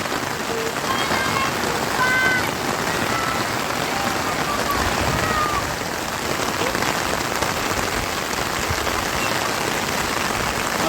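Rain falls hard and unbroken near Morbe dam with Irshalgad ahead, a thick wash of pattering drops on leaves and ground, close and loud, with faint bird calls early and no speech.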